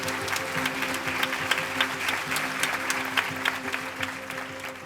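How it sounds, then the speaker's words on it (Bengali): A crowd at the Meril Prothom Alo Award 2025 ceremony claps loudly, a dense, continuous roar of hands sustained evenly for several seconds with no voices over it. "জোরে হাততালি।"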